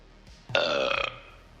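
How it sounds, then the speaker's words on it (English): A man lets out one loud, drawn-out burp, close and rumbling for about half a second, during a casual smoking session. "I'm getting burp bombed."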